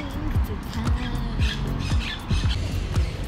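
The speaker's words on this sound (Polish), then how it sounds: "O, tam słychać. Jak się kłócą papugi, nie?" Green parrots squawk and quarrel among banana plants and palms near Málaga, giving loud, harsh, rapidly repeated calls close by with overlapping cries.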